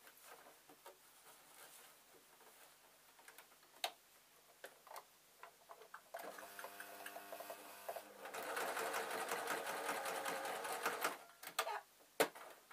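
A sewing machine stitches a fabric storage box in close, quiet bursts: rapid ticking runs start and stop at first, then a louder sustained run of stitching follows before trailing off into a few scattered taps.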